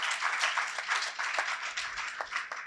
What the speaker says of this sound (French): on va accueillir Nana Konda sous vos applaudissements, qui est notre